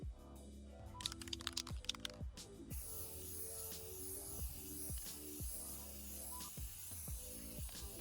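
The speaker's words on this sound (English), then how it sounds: "I'm about to attempt to make some waterproof by trying to spray it with clear spray paint." Clear spray paint hissing from a can onto a DIY graduation yard sign, quiet repeated short spray bursts with clicking sounds, faint and close, no talking.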